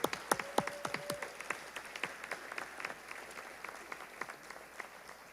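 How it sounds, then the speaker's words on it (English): Sparse, faint clapping at a graduation ceremony, distinct hand claps at first that thin out into a scattered patter, heard from a distance. "let's give them one more rousing round of applause."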